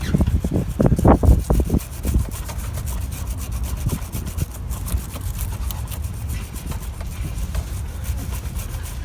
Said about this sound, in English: we're just going to go ahead and start brushing away the old dirt off the terminals for a better connection